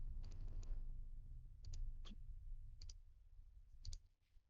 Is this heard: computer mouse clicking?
yes